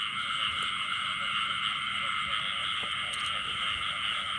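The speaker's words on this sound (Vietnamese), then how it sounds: "Đồng mình ếch dữ lắm cả nhà ơi." A dense, steady chorus of frogs croaks in a rice paddy at night during frog hunting, a continuous bright trilling wall of calls with no pause.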